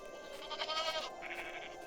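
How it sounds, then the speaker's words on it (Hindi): Goats taken out to a forest in bitter cold bleat in a short, close, wavering call that stands out against faint background hiss. "किशन अपनी बकरियों को साथ लेकर कड़ाके की ठंड में जंगल की ओर निकल पड़ा।"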